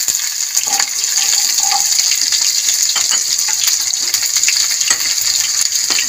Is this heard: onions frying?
yes